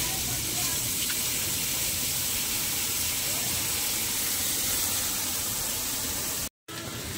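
Lemon juice hits hot white cooking oil, setting off a loud, steady sizzling hiss that runs almost unbroken, with a brief cut near the end.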